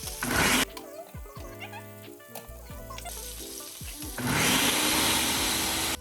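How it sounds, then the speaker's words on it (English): Blender whirring through cauliflower mash with butter, starting with a loud burst, dropping to quieter clunks and knocks, then surging back into a loud steady roar near and up close. "We're gonna pop this on, blend"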